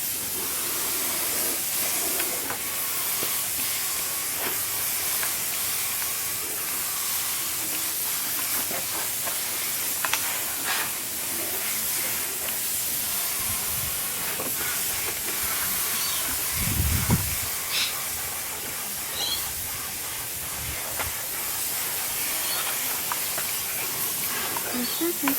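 Spray painting coats of paint onto a product, a continuous close airy hiss that keeps going with a few short breaks, and someone talks at times.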